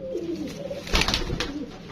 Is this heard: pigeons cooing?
yes